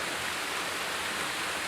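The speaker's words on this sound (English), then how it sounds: "a beautiful little waterfall right here" A small waterfall rushes steadily nearby, a dense continuous hiss of falling water with no breaks.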